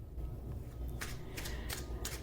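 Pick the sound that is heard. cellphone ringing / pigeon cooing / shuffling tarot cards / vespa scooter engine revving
shuffling tarot cards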